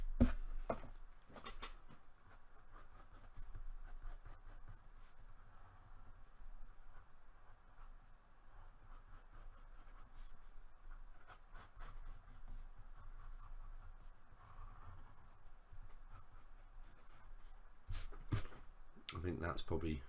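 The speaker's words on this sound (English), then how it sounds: "Probably want to sketch it out before I start doing any kind of details" A pencil sketching the outline of a Bumblebee drawing on paper, with soft continuous scratchy strokes close by for the whole stretch, under occasional quiet talk.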